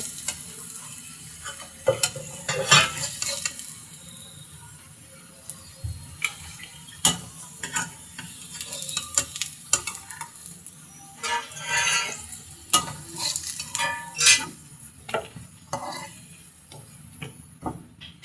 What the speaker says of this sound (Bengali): সবগুলো আলু আমি ভেজে নিচ্ছি।